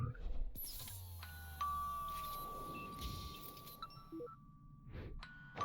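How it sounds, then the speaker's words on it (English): A doorbell chimes in a video game, a bright ding-dong tone ringing out over low game background sound with a sustained pitched note and some clinking. "That's the doorbell."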